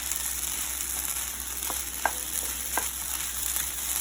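Sabudana khichdi (sago pearls with peanuts) sizzles steadily in a hot pan over raised flame, with a few soft scrapes of stirring standing out above the continuous frying hiss.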